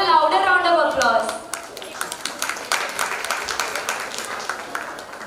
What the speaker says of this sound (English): They deserve a louder round of applause.